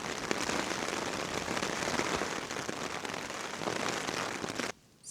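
Rain drums steadily and densely on a tent during a solo winter wild camp on Rannerdale Knotts in the Lake District, close and loud, then cuts off abruptly near the end.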